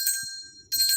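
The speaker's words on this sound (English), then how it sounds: "you're talking about using your brass bell." A brass bell is struck twice, close and bright, about two-thirds of a second apart, the first ring fading before the second.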